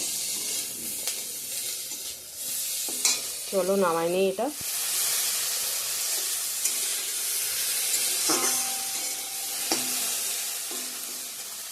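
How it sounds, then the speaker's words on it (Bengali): Okra (bhendi) frying in a home kitchen pan, a continuous close sizzle and hiss with occasional stirring clinks, while someone speaks briefly over it and a short whistling tone rises in the middle. "ভেন্ডি ভাজাটা বসাই দিব।"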